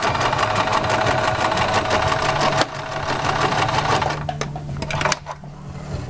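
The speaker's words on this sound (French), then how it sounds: "Quand on arrive à la fin du tissu, on fait un aller-retour, un point d'arrêt." A sewing machine stitches to the end of the fabric and reverses to backstitch when sewing piping, a fast steady mechanical whir with a clear rhythm that changes pace and then stops. It is close and loud, with no talk.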